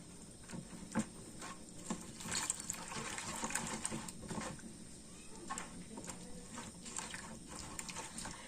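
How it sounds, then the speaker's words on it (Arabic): Water is poured from a glass into a bowl of spices to mix a seasoning for chicken. A low, uneven trickle and splash with patters and small clinks, faint and close. "غادي نجيب شويه ديال الماء ونديرو في التوابل ديالي"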